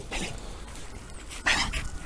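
A dog whimpers and pants close by in short, uneven bursts with a brief louder yelp-like cry partway through.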